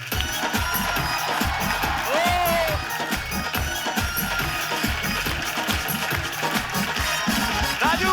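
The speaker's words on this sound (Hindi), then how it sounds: "उनके लिए जोरदार तालियां।" A studio audience on a comedy talk show claps and cheers as a comedian is welcomed, with rhythmic clapping, whoops and shouts under music and a lively crowd.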